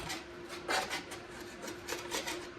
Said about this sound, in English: let's get this scraped